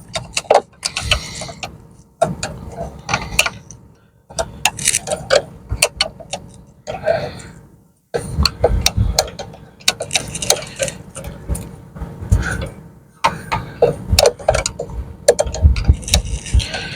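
Brake pipe unions with 13 and 14 mm fittings are undone from the ABS unit of an Audi A6, giving repeated bursts of metallic clicking and ratcheting between short pauses, close and fairly loud.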